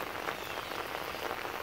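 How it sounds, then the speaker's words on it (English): Light to medium rain falls steadily in a garden with earthworks and a catch basin, a constant drizzle hissing evenly across the surface with soft patter and no voices. "light to medium rain, not super heavy, but a nice constant drizzle"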